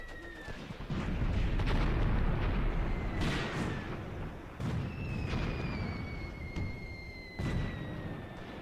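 Artillery fire in the wargame Graviteam Tactics during a night raid, deep rumbling booms rolling on continuously with heavier blasts recurring, alongside thin whistling tones of incoming shells.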